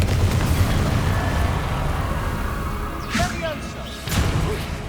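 Spell blasts from Confringo and other combat magic in Hogwarts Legacy on PS5, heard as heavy booming bursts over a dense, rumbling battle din, with a couple of sharper cracks late on and speech-like game sounds mixed in.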